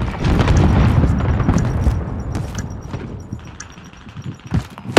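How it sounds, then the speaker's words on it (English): A Call of Duty: Modern Warfare airstrike lands as heavy, rumbling booms that roll and fade, followed by scattered sharp cracks and a final loud impact, close and forceful with no talk over it. "Allied precision airstrike incoming"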